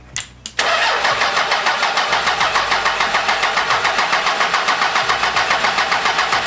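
A 12V Cummins diesel truck engine cranks hard after a couple of brief clicks, the starter churning in a fast, even, loud rhythm for several seconds without the engine catching.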